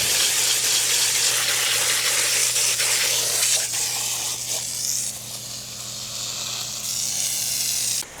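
A garden hose sprays water along the inside edges of a hot tub during cleaning, a loud, steady rushing hiss that shifts in tone as the stream moves, with a low constant hum underneath.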